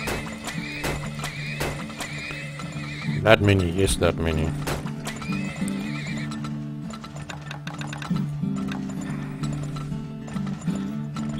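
Horses neigh and whinny with clip-clopping hooves in the Turmoil video game, rising in a burst near the middle over steady game sounds while someone talks throughout.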